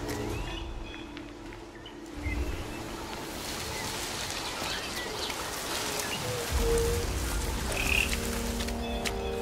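Frogs croak repeatedly at a moderate distance over a steady wash of rain-like background noise, with no talking.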